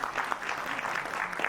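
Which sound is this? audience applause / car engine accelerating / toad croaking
audience applause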